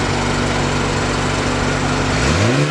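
A BMW 235i with its stock exhaust, warm rather than a cold start, drones at a steady, loud idle close by. Near the end it revs up and the pitch climbs quickly.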